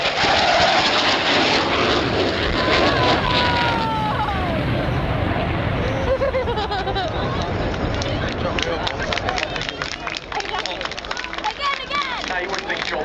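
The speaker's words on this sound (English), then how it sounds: "So the aircraft coming in now, dropping retard." Military jet making a bombing run at an air show, dropping retarded bombs: a loud, sustained roar fills the whole span with a broad rushing wash and drifting engine tones, while an announcer talks over it.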